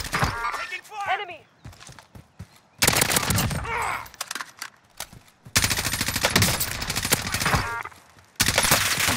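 Automatic rifle fire from an M4A1 in a Warzone match, loud sustained bursts and fusillades with brief gaps, mixed with in-game voice callouts and a player talking over the shooting.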